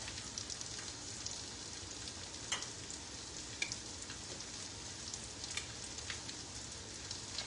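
Eggs fry in a pan for a breakfast hash, a faint, steady sizzle with scattered small pops and crackles, heard alone with no talking.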